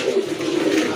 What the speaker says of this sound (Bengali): আপনাদেরকে কবুতরগুলো দেখাই